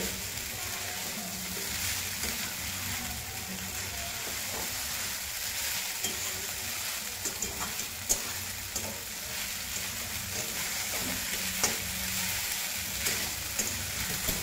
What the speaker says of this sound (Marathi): दोन 3 मिनिटं चांगली अशी खिचडी भाजून घ्यायची